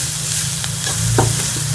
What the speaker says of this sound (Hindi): और इसको हम अच्छी तरह से मिक्स करके सारे मसालों को भून लेंगे।